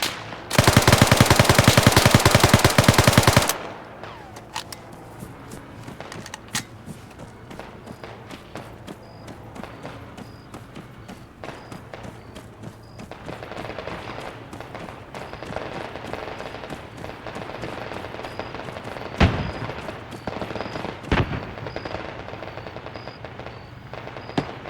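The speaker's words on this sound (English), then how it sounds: "Firing on provided coordinates." Gunfire in Arma 3 Spearhead 1944, firing on coordinates: a loud rapid burst of automatic fire opens, then quieter distant shots and scattered reports continue over a low rumbling backdrop.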